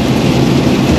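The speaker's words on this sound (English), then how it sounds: "But we just beat the rain. I'm sure you can hear it hitting the windshield." Steady rain pattering on a car windshield, heard from inside the vehicle as a dense, continuous wash of noise with a low rumble underneath, loud and unbroken with no talking.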